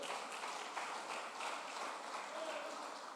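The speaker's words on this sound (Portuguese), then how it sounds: "Bata as palmas para ele." Churchgoers clapping their hands during a sermon, a moderate, steady patter of many hands that carries a faint trace of voices mixed into it.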